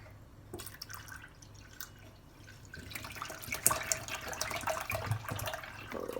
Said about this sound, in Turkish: Bir tane daha su. Açalım suyumuzu.